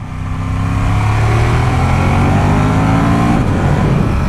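A Ducati Monster 1200 S motorcycle engine under way on a ride, a loud continuous close drone with steady rising pitch bands, strong throughout with no voices.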